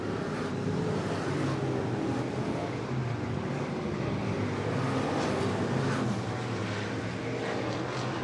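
IMCA stock cars race in the closing laps of a feature at Sunset Speedway Park, a steady, dense roar of engines sustained throughout at moderate distance, with no talk.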